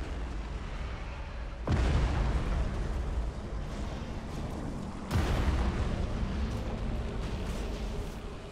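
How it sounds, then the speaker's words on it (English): Nova cannon blasts in the space strategy game Battlefleet Gothic Armada 2: two heavy booming detonations a few seconds apart, each followed by a long rumbling roar that slowly fades. "Nova cannon blasts. This should take out quite a few of them."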